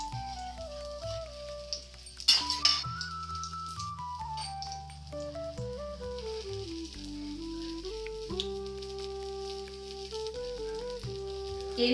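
Mustard seeds, crushed garlic and curry leaves sizzle steadily in hot tempering oil, a soft continuous frying hiss running under louder background music throughout.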